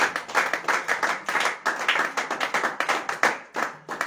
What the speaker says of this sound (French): On acclame très fort pour la gloire.